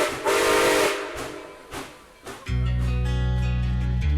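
A steam locomotive whistle sounds with a long, loud hissing blast. A pause with faint puffs follows, then a sustained, steady whistle tone holds to the end.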